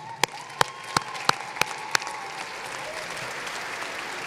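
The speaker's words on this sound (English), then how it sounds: "Round of applause." Applause fills a high school graduation ceremony, a broad wash of crowd clapping with several sharp, louder claps standing out near the start, heard at a moderate distance.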